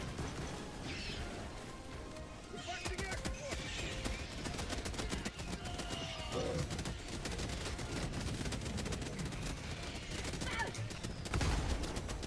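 Gunfire during a bug-fighting mission in Helldivers 2, with rapid bursts of shots, crashes and explosions layered over one another and voices talking throughout.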